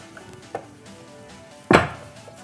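Knife work on dry aged beef as fat is trimmed away, with a few light taps and scrapes against a board and one sharper, louder knock near the end in a quiet room.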